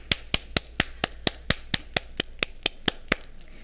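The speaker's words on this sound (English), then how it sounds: "Everybody clap your hands" A class claps hands in unison, about fifteen sharp, evenly spaced claps in a steady beat, close and distinct with no talking over them.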